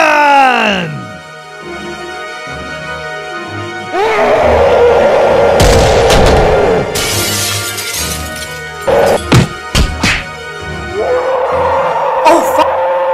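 Cannon fire in an animated zombie-western episode: a loud, close booming blast with a long rumbling crash, followed by several sharp impacts and bangs over dramatic music and shouting voices.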